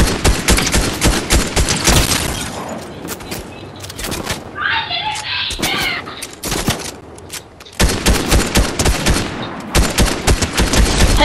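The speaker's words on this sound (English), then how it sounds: "Ah, they're shooting at me." Video game gunfire comes in loud, dense bursts of rapid automatic shots, stopping for a few seconds in the middle, with a player's voice briefly heard between volleys.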